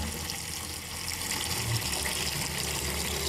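Water runs steadily from a tap or hose into a small outdoor pen for young Muscovy ducklings, a constant close gushing splash with no talk.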